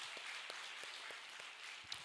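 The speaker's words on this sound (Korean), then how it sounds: "여러분 한번 이 자리 있거나 없거나 박수 한번 하겠습니다" A church congregation claps together during a Sunday service at the dedication of a new sanctuary, a quiet, steady patter of many hands heard from a distance.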